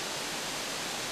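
A 30 m waterfall plunges in a steady, dense rush of broadband white noise, loud and continuous with no other sounds.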